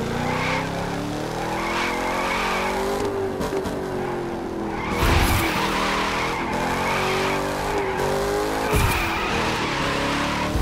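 A drifting car in The Crew 2 racing game, engine revving with wavering pitch under continuous loud tire squeal and skidding, steady and close throughout.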